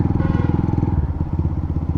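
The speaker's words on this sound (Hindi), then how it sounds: "एक्रापोविक पे ये ज़्यादा लाउड हो चुका है, ज़्यादा बेसी साउंड आ रहा है।" A Hero Xtreme 125R motorcycle fitted with an Akrapovic full-system exhaust idles close by, giving a loud, bassy, booming burble with a fast, even pulsing rhythm throughout.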